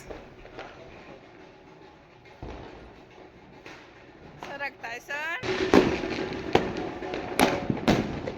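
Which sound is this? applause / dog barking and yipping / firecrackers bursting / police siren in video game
firecrackers bursting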